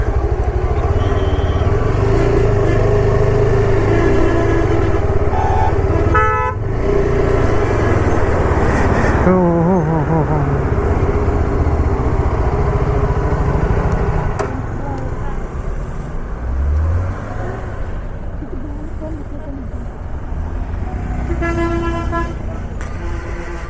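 Heavy road traffic on a Tamil Nadu road, with a truck and buses rumbling past close by, engines droning continuously, repeated horn toots throughout and a motorcycle passing; a voice talks over the traffic.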